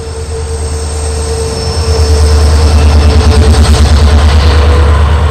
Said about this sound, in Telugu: India's longest train Vivek express train అయితే వెళ్తుంది